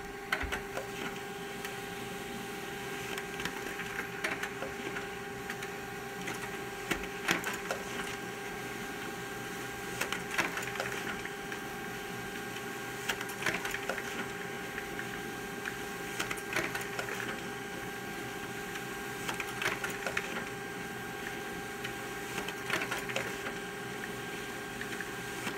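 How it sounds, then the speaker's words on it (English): A printer prints a document, giving a steady mechanical whir with a constant hum and soft repeating clicks and rattles for the whole stretch, close and moderate in level, with no talking. "since the printer's on, press print"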